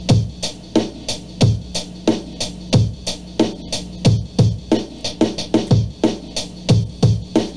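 Punchy drum-machine pattern of kicks and crisp hi-hat hits, each hi-hat choking the kick, looping in a steady rhythm with short, clipped decays.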